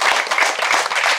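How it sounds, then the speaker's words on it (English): A community meeting audience applauds in a steady, dense wash of clapping that fills the short moment, loud and continuous with no voices standing out. "I think it's something that is deserving of applause"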